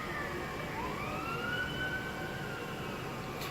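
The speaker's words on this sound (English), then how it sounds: "You hear that siren?" A police siren wails in the distance from the film Boyz n the Hood, its rising and falling tone sweeping over a steady murmur of city noise.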